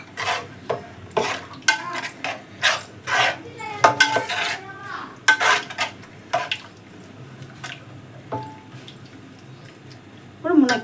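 Moringa drumsticks are mixed into masala in a metal pot for dum biryani, producing a string of close spoon clanks and scrapes with light sizzling between them and no talk.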